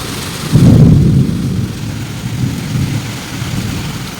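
A sudden afternoon thunderstorm brings a deep, loud thunder rumble early on, followed by heavy rain pouring steadily close by.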